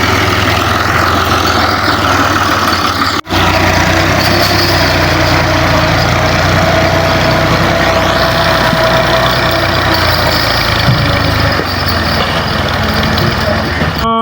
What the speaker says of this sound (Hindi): ये ट्रैक्टर अपना रास्ता बना रहा है हाल से, ये चला गया पीछे।